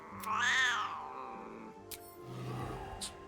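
A cat in the video game Baldur's Gate 3 lets out a drawn-out, rising and falling meow, then a lower growling moan follows, with brief clicks in between and no one talking.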